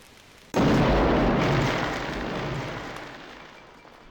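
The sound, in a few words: explosion in the video game Tex Murphy: The Pandora Directive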